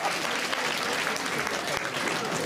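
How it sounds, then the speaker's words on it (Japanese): A crowd of guests at a Tokyo DisneySea show claps together in a short, dense burst of applause with no break. "みんな拍手だ。"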